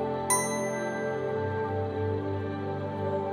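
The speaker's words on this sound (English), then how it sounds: "When you hear the bell again" A single bell rings out clearly with a sharp strike, then its bright tone hangs and slowly fades over several seconds against a quiet background.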